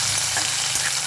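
Matar paneer spices such as cinnamon frying and being stirred in a pan, a loud, dense, continuous sizzle heard up close with no talk.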